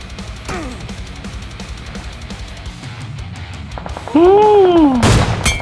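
PUBG Mobile gunfire pops off in short bursts over a busy background, then a loud rising synthetic whine swells near the end, with no talking.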